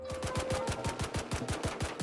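Rapid, evenly spaced pistol shots from Roblox Blackhawk Rescue Mission 5, about fourteen sharp cracks fired in quick succession over two seconds, loud and close with no talking.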